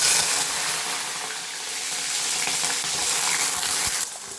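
Garlic cloves fry in hot oil with mustard seeds and fenugreek for a garlic-pepper gravy, a loud bubbling sizzle that starts strong, holds steady, then drops off abruptly just before the end.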